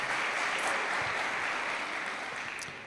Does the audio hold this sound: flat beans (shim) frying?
no